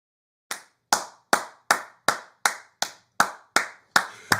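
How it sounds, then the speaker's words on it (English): A single person claps eleven times in a steady, fairly quick rhythm, each sharp slap ringing close and loud with nothing else heard between the claps. "I got to give you a round of applause for that one"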